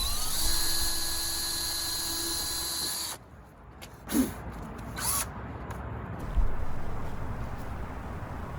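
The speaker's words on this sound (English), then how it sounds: "You're drilling through plastic, so it's actually pretty easy." A 1/8 inch drill bit boring through plastic on a Tesla Model 3 for mud guards: a high, steady whine for about three seconds, then stops, leaving a few faint handling clicks and background hiss.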